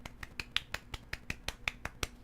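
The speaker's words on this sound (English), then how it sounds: "Golf clap" Golf clap, a single person's soft, quiet clapping in an evenly spaced rhythm of about a dozen light, crisp claps, close and isolated.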